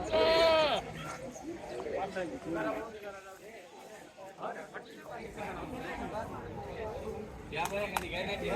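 Goats at a goat market in Chalisgaon give several loud, wavering bleats, one at the start and more near the end, while people talk almost constantly in between.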